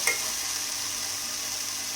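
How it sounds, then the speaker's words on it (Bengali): Dried shrimp fries in a pan with a continuous close sizzle, with a faint stir or clink at the very start and no talking. "এটা মানে হচ্ছে চিংড়ি মাছের শুটকি আর কি ভাজা হইতেছে"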